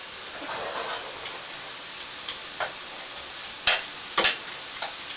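Minced garlic added to melted butter and mushrooms sizzles softly in a pan, a steady hiss broken by a few sharp utensil clicks and scrapes, near and without talk.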